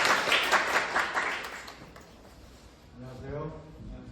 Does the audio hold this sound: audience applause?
yes